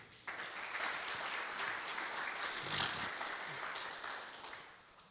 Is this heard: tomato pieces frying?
no